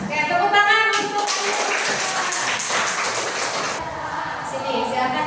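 Classroom applause during a biology teaching exam, with a broad wash of hand clapping from many students that starts after a brief voice and carries on steadily for several seconds.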